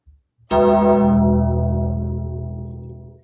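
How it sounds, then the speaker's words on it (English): A single deep bell toll from the Undertaker's wrestling entrance, struck sharply then ringing out with long rich overtones that slowly decay over about three seconds, loud and alone. "The Undertaker's bell, you drank."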